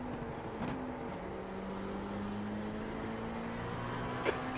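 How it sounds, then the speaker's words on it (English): A Mustang GT3 race car in the iRacing sim at Watkins Glen passes by, its engine giving a steady droning tone that shifts in pitch as it goes, with continuous engine noise throughout and no talking. "the Mustang does sound cool when you're going by it"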